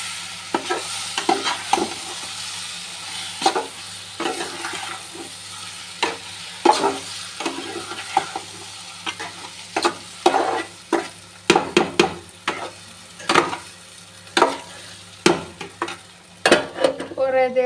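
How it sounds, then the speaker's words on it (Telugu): Spicy egg curry with chilli powder gets stirred in a pan, a long run of loud, rhythmic spoon scrapes and knocks against metal over a faint sizzle, close up and without speech. "నేను గుడ్డు కూర చేస్తున్నాను కదా, ఇప్పుడు కారం అన్నీ వేసేసాను, మిక్స్ చేస్తున్నాను"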